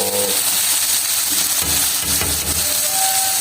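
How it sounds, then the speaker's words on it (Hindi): Chopped onions hit a hot kadhai of oil for bhindi masala, a loud continuous sizzle that swells as they land, with stirring scrapes and no voices. "ये प्याज हम इसमें डालेंगे कढ़ाई में"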